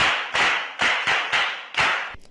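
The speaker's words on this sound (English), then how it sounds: "Clap for yourselves." A group of students in a radio classroom lesson clap for themselves in several short bursts, each a quick close flurry of hands, with brief pauses between them and no voices.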